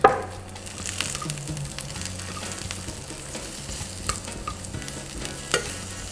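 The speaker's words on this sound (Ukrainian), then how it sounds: "Ковбаски одразу ж починають дуже-дуже апетитно шкварчати, бо ми ж розігріли сковороду добряче." Smoked sausages and garlic sizzle in a well-heated frying pan while being stirred, a steady crackling fry with occasional scraping stirs and small clinks, close and moderately loud, no talking.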